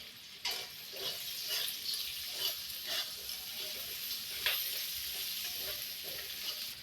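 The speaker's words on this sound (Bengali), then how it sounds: "পেঁয়াজ লাল করে ভাজা হয়ে গেছে" Onions fry in a pan with a spoonful of salt until browned, giving a continuous bright sizzle with soft, regular scrapes of a spatula stirring through them.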